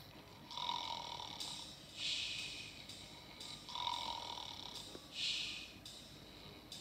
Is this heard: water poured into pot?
no